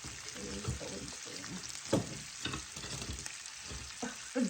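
Ingredients crackling in a pot for corn chowder, a continuous close sizzle with stirring scrapes and occasional louder pops, no clear speech.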